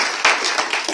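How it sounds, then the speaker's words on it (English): An audience at a Word Around Town spoken-word poetry tour event claps together, a dense broadband wash of applause with a few sharper swells, fairly loud and close, filling the whole moment without talk. "Give a round of applause for"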